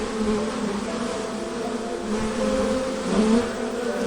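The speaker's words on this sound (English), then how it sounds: "The buzzing grew even louder as the bees left their destroyed home." Bees swarming out of a broken hive, a thick continuous buzzing drone that swells slightly toward the end, loud and close with no voices.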